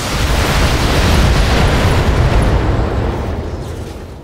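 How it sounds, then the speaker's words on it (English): Mech weapons firing at a Zeus in the Battletech game, a loud, dense rumbling barrage of blasts that roars continuously and slowly tapers off. "Firing."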